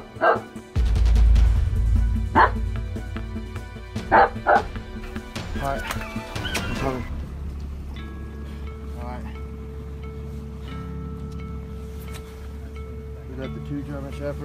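Dogs bark and yip loudly and close during a hurricane flood pet rescue, with rapid bursts early, then softer whimpers and scattered yips as people talk.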